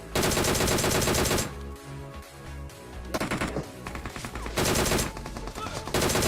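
Loud, rapid bursts of automatic gunfire in PUBG Mobile in dense volleys, pausing briefly before more rattling shots, with a faint voice underneath.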